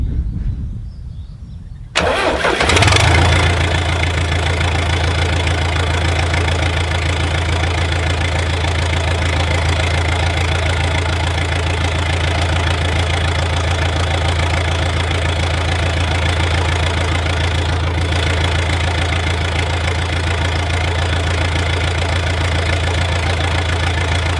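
An old diesel tractor backhoe engine cranks briefly, catches and fires, then settles into a loud, steady, rough idle with a low knocking rumble that runs on close and unbroken to the end.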